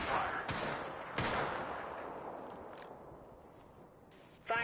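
Video game gunfire heard as several sharp, distant shots spaced about a second apart, each trailing off in a faint reverberant tail, with a louder burst at the very end.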